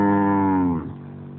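Cattle in a Mundari cattle camp, tied up in the evening, give a single long, loud, deep moo that slowly fades out.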